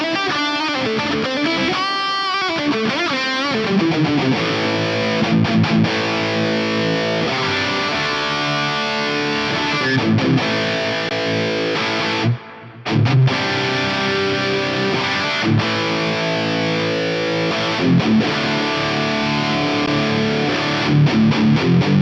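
Distorted electric guitar through a Hotone Pulze practice amp with BBD delay and hall reverb plays continuously with echoing repeats and a spacious reverb tail, loud and up front, with one brief dropout midway.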